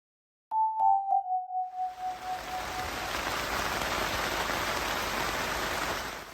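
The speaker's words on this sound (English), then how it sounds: "the day started pretty much the same way as yesterday ended, with heavy rain" Heavy rain pours steadily on a liveaboard canal boat, a dense, even hiss that swells in after a few short ringing chime tones and then continues unbroken to the end, with no voices.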